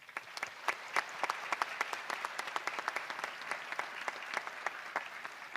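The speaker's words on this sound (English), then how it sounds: "Let us give them a round of applause." Round of applause from a high school graduation audience, scattered distinct claps blending into a moderate, somewhat distant patter for several seconds.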